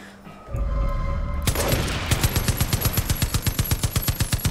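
Gunfire in the video game Far Cry 5: a steady, rapid automatic burst of about twenty evenly spaced shots, loud and close, following a brief rising rumble.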